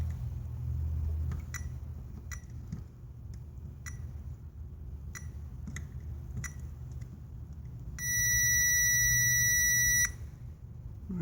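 A multimeter's continuity test beep sounds for about two seconds against a low hum, preceded by faint clicks of probes touching contacts on a car amplifier's circuit board.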